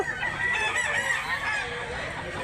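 Chickens and roosters at a weekly fowl market in Mantalungon, Barili, Cebu: overlapping crowing and clucking from several birds, fairly loud and close, filling the short stretch without pause.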